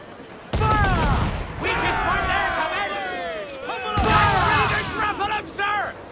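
Ship cannons fire during a naval battle in the video game Assassin's Creed IV Black Flag: two heavy, sharp blasts ring out over loud, continuous crew shouting.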